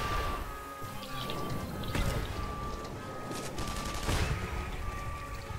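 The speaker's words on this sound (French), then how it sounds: "il tire avec un gros truc là" Heavy weapon fire in The Saboteur video game, a dense continuous barrage of blasts with sharper loud reports standing out every couple of seconds over a constant roaring background.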